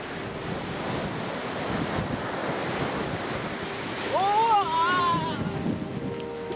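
Waves wash steadily onto a lake shore scattered with iceberg pieces at Jökulsárlón, Iceland, with wind rushing across the microphone and a brief whistling tone rising near the end.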